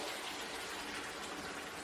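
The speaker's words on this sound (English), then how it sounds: "It's bubbling away very nicely." Osso buco sauce with oil and meat juices simmers in a pan, a faint, steady bubbling hiss that runs evenly throughout with no speech.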